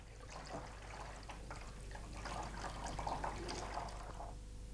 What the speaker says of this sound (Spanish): En una bandeja, Miguel Ángel prepara el baño de ácido nítrico y en la otra, 5 partes de agua por una de ácido